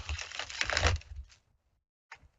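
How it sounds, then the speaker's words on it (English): Tarot cards are shuffled by hand, a dense fluttering riffle of cards for about a second that fades out, then one brief soft card slap, close and alone. "Let's shuffle them up."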